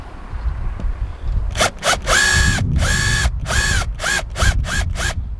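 A power drill cuts a countersink into solid epoxy on a boat in a series of close, loud, whirring bursts, some long and some short, separated by brief pauses.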